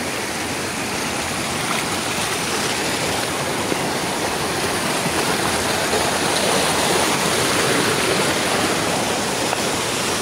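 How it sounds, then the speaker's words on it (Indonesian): Clear mountain river beside a durian orchard flows steadily, a dense, continuous rush of water close to the microphone with no voices, holding an even level throughout. "keadaan sungai di dekat kebun kita ya"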